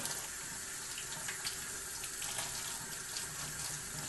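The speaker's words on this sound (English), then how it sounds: "Anytime you're working with fresh vegetables, you want to make sure and wash them good" Running tap water pours steadily into a sink while fresh celery is washed under it, a close, continuous hiss with faint splashes and no talking.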